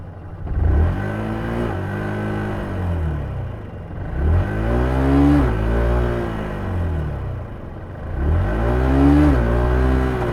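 A Yamaha R125 motorcycle engine is revved hard in first gear during a wheelie attempt: three loud, near rising-and-falling revs, each climbing in pitch and then dropping off before the next.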